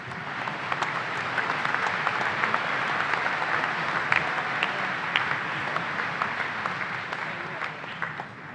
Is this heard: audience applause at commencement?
yes